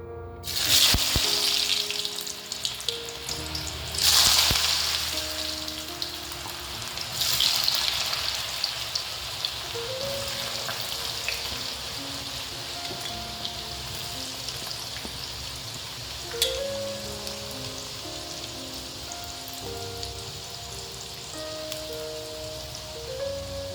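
Potato sticks for French fries sizzle in hot oil in a pan, with loud bubbling bursts early on that settle into a continuous crackling fry; faint tonal music runs underneath.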